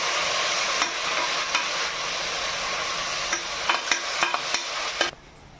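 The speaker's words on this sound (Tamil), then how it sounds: "இப்போ நம்ம வதக்கி விட்டுக்கலாம்." Country chicken sautéed in a pan, with a steady sizzle under occasional scraping and clinking of a stirring utensil, near and moderately loud before cutting off.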